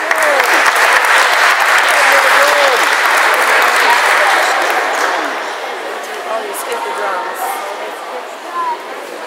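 An audience bursts into loud applause and cheering after a song performance, dense clapping that stays strong for several seconds before thinning out and fading, with a few whistles and shouts.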